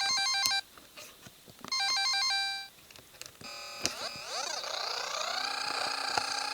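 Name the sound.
biking racing video game sounds on Nintendo e-Reader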